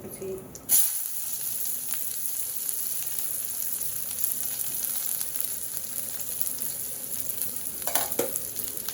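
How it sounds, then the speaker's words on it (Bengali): Onion and garlic dropped into hot oil as a tempering for khichuri, a sharp burst of sizzle followed by steady close frying and stirring, with a few clattering scrapes near the end. "খিচুড়িতে ফোড়ন একটু বেশি দিতে হয় তারপরে দিব হচ্ছে পেঁয়াজ আর রসুন"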